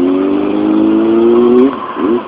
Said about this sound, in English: So the engine is still cold, so I'm still like, you know, using a little bit of throttle to warm it up.